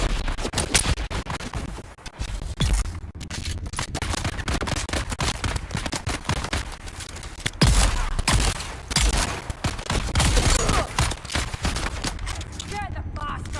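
Gunfire in the survival video game Dune, with dense, rapid bursts of shots and crackling impacts that rise and fall almost continuously, loud and busy, with speech heard over the action at times.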